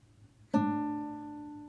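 A single guitar chord with a bass note is plucked once and left to ring out, decaying slowly in a quiet room as part of a chord melody.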